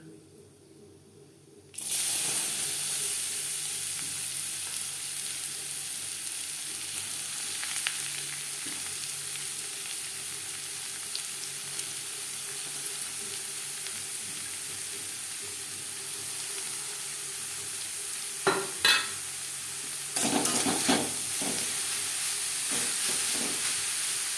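Grated carrot frying in a pan with crushed garam masala for carrot laddu: a steady, close sizzling hiss that starts suddenly and runs throughout, with a few scraping stirs near the end.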